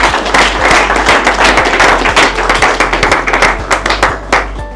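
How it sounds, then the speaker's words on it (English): Audience at a motivational mindset talk breaks into sustained applause, many hands clapping in a dense, continuous patter that stays fairly loud and close before thinning toward the end. "Please clap for yourself for making it up to come."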